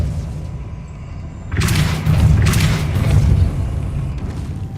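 A Depulso spell cast in Hogwarts Legacy lands as a sudden whooshing boom after quiet ambience, then a roughly three-second roaring surge with bright hiss that swells twice before easing back to a low hum.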